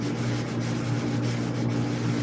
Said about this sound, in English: you're not just sanding that edge, you're sanding 3 inches